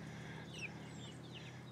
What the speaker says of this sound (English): Crazy chickens. They're all going to the corner.